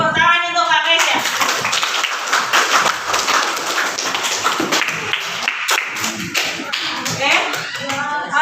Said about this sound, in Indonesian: Tepuk tangan untuk Kak Nesha.